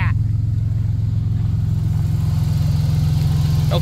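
A 1990 Dodge Grand Caravan engine runs steadily with its exhaust dumping straight out after the catalytic converter, giving a loud, deep, constant rumble close by.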